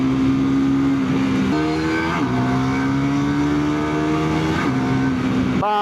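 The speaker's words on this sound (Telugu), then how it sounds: "చూసారా breaking and even the torque this bike has bro" Triumph Tracker 400 motorcycle engine running loud and close, its droning tone rising steadily through several gear shifts, each shift marked by a brief dip before the pitch climbs again.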